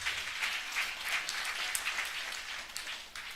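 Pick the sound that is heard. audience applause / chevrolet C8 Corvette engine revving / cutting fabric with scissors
audience applause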